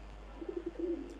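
Pulser and tippler pigeons coo faintly, giving a short quiet run of low throaty notes over a steady background hum.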